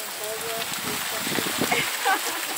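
Rain falling in the rural Sertão das Marrecas near Sobral, Ceará, heard as a steady broadband hiss from under a porch, with brief birdcalls and faint sounds in the background.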